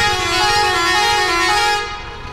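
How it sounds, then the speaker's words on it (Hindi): A loud, sustained air horn on a 14-wheel truck blares in one long continuous blast, close by, then cuts off near the end. "भैया बजाना एक मिनट हॉर्न"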